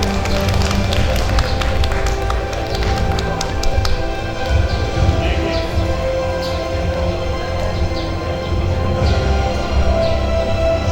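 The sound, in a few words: audience clapping at meeting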